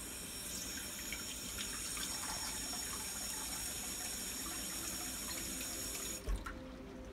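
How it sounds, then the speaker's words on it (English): Water runs steadily from a kitchen sink tap into a cup for ramen broth, a continuous hissing stream that stops abruptly near the end with a small clunk. "you go back and get 1 more cup of water"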